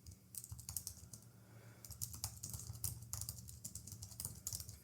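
Steady, continuous typing on a computer keyboard, close and clear with dense irregular key clicks throughout and no talking.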